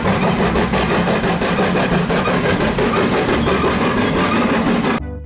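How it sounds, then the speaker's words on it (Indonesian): A toy steam train chugs loudly and steadily with a rapid rhythmic pulse, running nonstop until it cuts off abruptly at the end. "Di sini ada kereta api uap."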